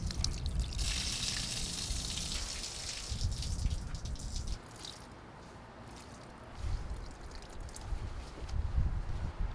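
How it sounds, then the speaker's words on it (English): Dirty wash water poured out of a container after hand-washing clothes while travelling: close, wet squishing and gushing splashes in uneven bursts with short pauses between, no talking. "I'm gonna pour this water out and then refill it with fresh,"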